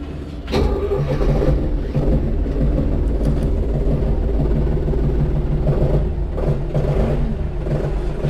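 A Başak 2060 Plus cab tractor's engine cranks and catches after a brief pause, then settles into a loud, steady diesel rumble that continues evenly to the end.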